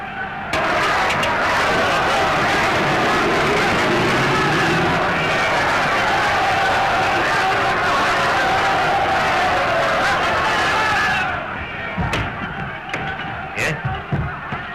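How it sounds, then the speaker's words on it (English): An excited crowd clamours outside after a gunshot attempt on a general's life, a dense, steady roar of many voices lasting about eleven seconds, then breaking off into scattered bumps and brief noises. "The crowd outside are in a terrible state of excitement."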